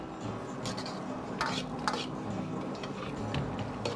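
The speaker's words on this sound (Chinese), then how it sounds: "快速的翻炒几下，炒出锅气，炒出香味" Spicy dry-pot pork ribs stir-fried in a wok over high heat, giving a faint, steady sizzle with occasional spatula scrapes and clinks against the metal, close by with no talking.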